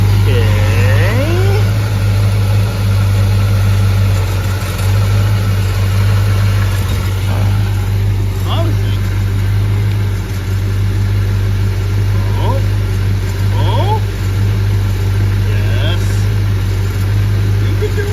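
A 1968 Dodge C truck engine with a new but faulty alternator idles in a loud, steady, close rumble with a deep continuous drone and small irregular fluctuations throughout.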